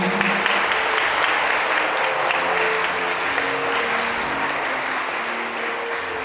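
Wedding guests at a Gwangju wedding hall applaud the bride and groom, a dense, loud, continuous wash of clapping sustained evenly throughout with faint tones beneath.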